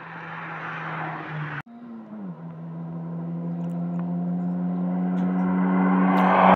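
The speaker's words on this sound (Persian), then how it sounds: "خب اینجا پژو از ام وی ام جلو زد و برنده شد." Peugeot and MVM cars at a drag race, engines droning steadily and rising in pitch as they accelerate, with a sudden gear change early on and growing loudness toward the end.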